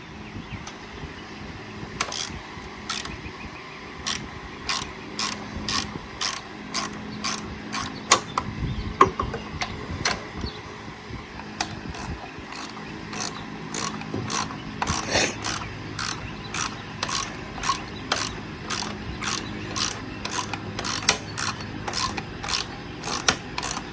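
A ratchet backs out 10 mm carburetor screws on a Miller Blue Star 185 welder/generator, rapid rhythmic clicking strokes repeating close up with short pauses between bursts.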